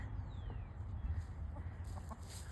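Silver lace Wyandotte and buff Brahma hens clucking in a backyard flock, soft scattered clucks over a steady low rumble of background noise, fairly faint and close.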